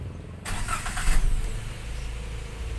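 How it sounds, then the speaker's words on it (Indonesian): A 2016 Daihatsu Gran Max 1.5 pickup engine cranks and fires after a short lull, settling quickly into a steady, fairly close idle with no talking. "Mesin kita nyalakan."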